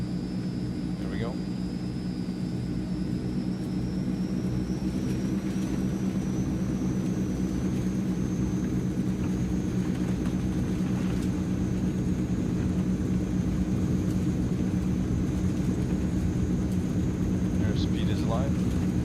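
Transall C160 engines drone steadily on the takeoff roll in Microsoft Flight Simulator, a loud continuous turboprop roar with a faint rising whine, while a voice speaks briefly over it.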